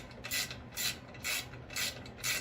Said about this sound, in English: we're going to remove this bolt right here.